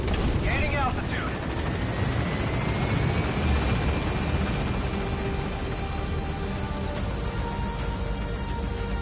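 Helicopter rotor and engine noise from Metal Gear Solid 5: The Phantom Pain, a steady broadband roar as the aircraft gains altitude, with a rising whine and game effects layered over it.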